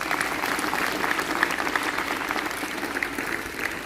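Audience applause at a Hindi lecture, a steady wash of many hands clapping that continues for several seconds, even and moderately loud with no talk over it.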